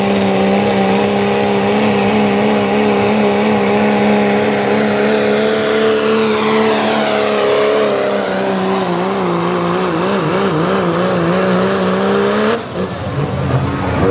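Diesel pickup truck at a truck pull in Columbus, its engine roaring loud and close in a sustained drone whose pitch climbs and sweeps, then drops abruptly near the end.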